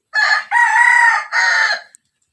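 A rooster crows once, loud and close, in a long drawn-out call that breaks into three connected phrases, with nothing else audible around it.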